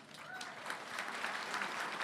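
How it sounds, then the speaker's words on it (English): Audience applause at an annual awards ceremony, a steady, fairly faint wash of many hands clapping throughout, with no talk over it. "So let's give everybody a round of applause."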